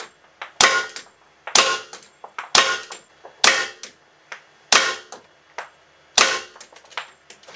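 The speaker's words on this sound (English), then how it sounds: "That was 10 rounds of 35 ACP, TMJ, total metal jackets." Ten rounds of .45 ACP total metal jacket ball fired at AR500 steel body armor on location, sharp loud gunshots spaced roughly a second apart, each with a ringing steel impact and brief echo, no talk.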